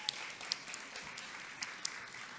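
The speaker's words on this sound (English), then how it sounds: "Give all of these wonderful people a round of applause." Audience applauding panel members at a community food biodiversity event, a soft, distant wash of clapping with a few sharper individual claps standing out.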